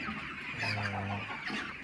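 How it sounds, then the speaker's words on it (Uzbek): A crowd of healthy Andijan black chicks cheeping together, a soft continuous chorus of high peeps with a brief lower cluck. "yaxshi holatda sog'lom Andijon qora jo'jalar"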